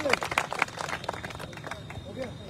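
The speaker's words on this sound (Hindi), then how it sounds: "ताली बजाओ भैया" Protesters at a teacher-recruitment sit-in in Prayagraj clap in scattered, irregular bursts, fairly faint and mixed with nearby voices.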